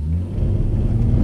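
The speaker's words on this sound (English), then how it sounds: "That's wheel spin." A BMW M140i hot hatch launches with wheel spin, its engine giving a loud, close, low rumbling roar that swells over a brief moment; no talking.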